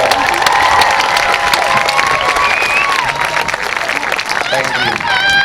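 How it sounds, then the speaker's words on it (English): A high school graduation crowd applauds and cheers for standing magna cum laude graduates: loud, steady clapping mixed with whoops and shouts, with whistles near the end. "Let's give them a round of applause."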